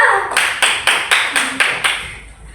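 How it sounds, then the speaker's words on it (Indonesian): A small classroom group claps after a student presentation, about seven distinct sharp claps in a steady rhythm, close and fairly loud, with no talk over them. "Tepuk tangan dulu."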